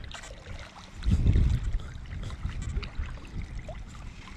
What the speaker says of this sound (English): I wanna let you hear what it sounds like just swinging through the water